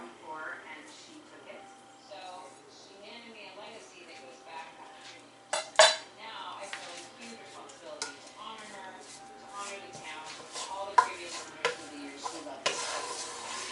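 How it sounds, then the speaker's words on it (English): Dishes and utensils clatter in a pan as freshly chopped spices go into a spice mix for shrimp and grits, with scraping stirs, a soft sizzle and a few sharp metallic knocks, while a person talks over it. "let's turn back on our spice mix and add the fresh spices that we chopped up"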